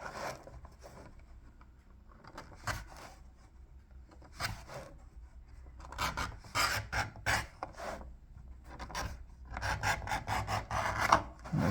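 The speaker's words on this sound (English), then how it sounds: "We're cutting off like a half a round off the outside of the edge of it, beveling the outer edge of the leather to make it more finished." Leather edge being bevelled with a hand tool around the outer edge of a sheath for a throwing axe, giving close scraping and rasping strokes that come in irregular passes and grow busier toward the end, with no talking.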